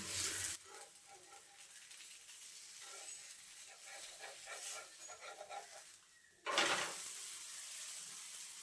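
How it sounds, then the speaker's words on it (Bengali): Taler pitha, a palm fruit pancake, sizzles in a hot pan with a steady, faint frying hiss that swells loudly at the start and again near the end, with no voices. "এই দিকটা একটু ভেজে নেব, তাহলে হয়ে যাবে।"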